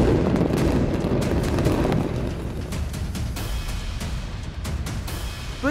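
Planned waterfall-implosion demolition of the Supertech twin towers, a sustained loud, broadband rumbling roar with crackling blasts throughout, heavy low-end boom continuing without pause.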